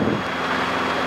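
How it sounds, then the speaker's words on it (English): Wind gusting across a microphone outdoors during a flight, a loud broadband rush and low buffeting that stays steady for a moment with no talking. "Damn it, wind."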